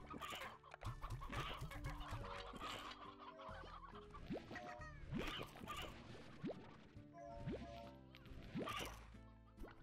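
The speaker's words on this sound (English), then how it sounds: "Oh, that's an old hen." An old hen in the video game Slime Rancher clucks repeatedly in short, close bursts, with several other fowl clucking and chattering over busy game ambience.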